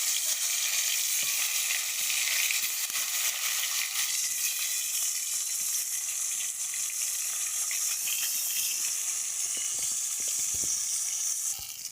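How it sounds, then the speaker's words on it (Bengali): Fish sizzling steadily in hot oil in a pan while cooking a Bengali fish curry, a dense continuous frying hiss with faint spatters throughout. "তেলটা গরম হয়ে গেছে, ওর মধ্যে মাছগুলো সব ছেড়ে দেবো"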